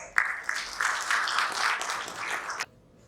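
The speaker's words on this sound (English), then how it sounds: "Then with a big round of applause." Audience applause at a DevOps conference panel session, a burst of clapping that starts abruptly, holds fairly loud for a couple of seconds, then cuts off sharply into near silence.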